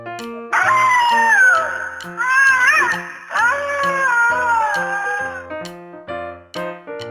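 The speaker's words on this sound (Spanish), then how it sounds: "ya se empezaban a oír los aullidos del lobo en el bosque" A long, wavering wolf howl rises and falls over soft background music, followed by a few short plucked notes as it fades.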